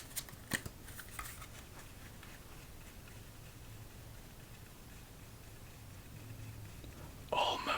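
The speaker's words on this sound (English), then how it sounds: "Shuffle." Edo Tokugawa karuta playing cards being shuffled up close in a quiet room, a soft steady riffling with a few sharp taps near the start and a brighter burst of card noise at the end.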